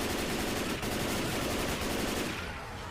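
Rapid automatic gunfire in Left 4 Dead 2, a loud dense burst of shots that continues almost without pause and fades slightly at the end, no speech.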